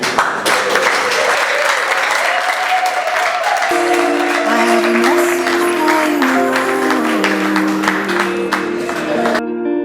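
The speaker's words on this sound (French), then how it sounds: "Vous pouvez applaudir." Loud, continuous applause from an audience at a thesis defence, dense clapping that fills the room for about ten seconds while music with sustained tones rises beneath it and cuts off at the end.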